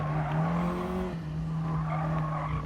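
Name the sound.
Ford Focus ST braking, tires skidding in Gran Turismo Sport video game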